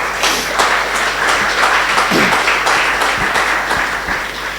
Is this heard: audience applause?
yes